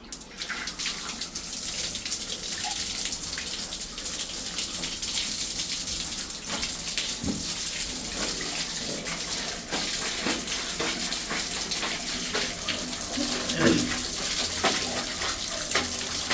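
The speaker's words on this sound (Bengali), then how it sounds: "দেখেন আমি এবার ভালো করে ধুয়ে নিব পাঞ্জাবিটা" A batik-dyed panjabi being rinsed and washed by hand: continuous running and splashing water from a tap, moderately close, with occasional sloshing and no talking.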